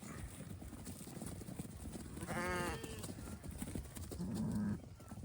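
A sheep bleats loudly and nearby with a wavering cry, followed by a lower short bleat, over a background of shuffling hooves and farm noise.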